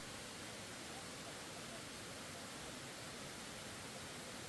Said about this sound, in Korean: 여울목교를 지나면 수량이 많은 방화폭포가 나옵니다.